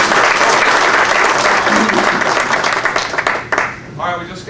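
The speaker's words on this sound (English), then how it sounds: "Let's give Dan a round of applause." An audience at a business presentation breaks into a burst of loud applause that fades after about four seconds.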